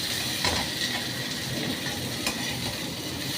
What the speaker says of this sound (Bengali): পেঁয়াজটা ভাজ মানে নরম হবে